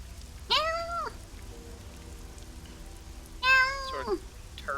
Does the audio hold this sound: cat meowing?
yes